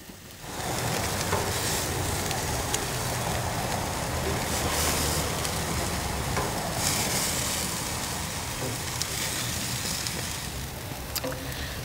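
Small Croatian chevapcici sausages sizzle steadily in a pan as they are turned with a spatula, a continuous broad frying hiss with faint scraping, under no talk.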